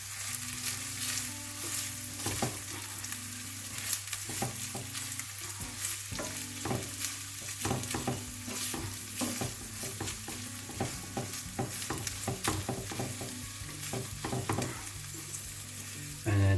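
Prawn and tuna rice mixture stirred in a hot pan, continuous sizzling frying with frequent scraping and clinking of a utensil, close and steady with no talking.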